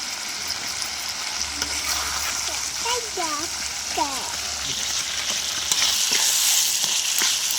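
Coriander, cumin, red chilli and turmeric masala frying in oil in a pan for a cauliflower paneer veg biryani, a steady hiss and splatter with a few bright scraping strokes, loud and close, a voice heard over it.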